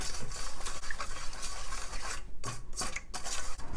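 A spoon stirring salt, black pepper and garlic powder together in a bowl for tofu, making close, continuous scraping and light clinking against the bowl.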